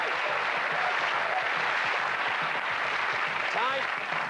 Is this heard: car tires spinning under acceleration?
no